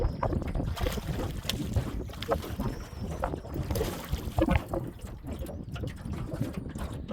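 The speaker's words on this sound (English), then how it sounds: "Hopefully you guys can hear me with all this wind." Strong wind buffets the microphone in gusty, rumbling bursts while out fishing for walleye from a small boat on Grace Lake, with faint water lapping mixed in and no voices.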